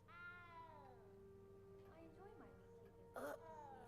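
A cat meows in a magic-themed video game, a long plaintive meow that slides downward followed by a couple of shorter mewing calls, fairly faint over a low steady background hum with a brief clatter near the end.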